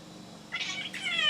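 A cat gives two short, close meows in quick succession over a faint, low background hum.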